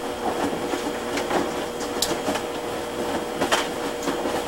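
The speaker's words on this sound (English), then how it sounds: "This is coming from items that were left in a pocket and fell out into the tub." Loose items from a pocket rattle and clink inside a stainless steel washing machine tub during a wash cycle, a steady busy rattle with scattered sharper clanks over the churning hum.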